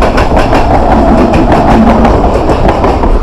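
Local train running from Kolkata toward Digha, heard from inside a carriage: a steady loud rumble with rhythmic clickety-clack of wheels over rail joints throughout.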